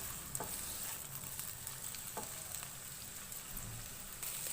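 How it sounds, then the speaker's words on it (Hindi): Chopped onions fry in a pan over a medium flame, giving a steady close sizzle with occasional stirring scrapes and clicks, without any talk. "इसको ऐड करेंगे, मिक्स करेंगे। मीडियम फ्लेम पे इसको हल्का सा फ्राई करेंगे।"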